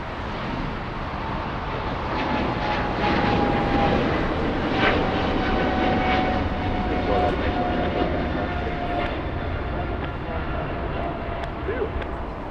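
A United heavy airliner takes off from runway 25 right, a steady broad engine roar with a faint whine running throughout, heard alongside air traffic control radio talk.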